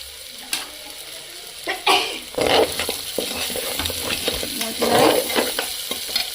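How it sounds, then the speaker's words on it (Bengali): Spices for chana dal stirred in a hot pan, with loud scraping strokes and sizzling bursts coming in uneven pulses, close up and with no talk. "মশলা নাড়াচাড়া হয়ে গেছে।"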